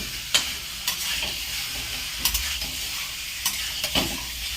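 Potatoes and eggs sautéing in a pan for egg curry give a close, steady sizzle with scattered spatula scrapes and taps as they are stirred.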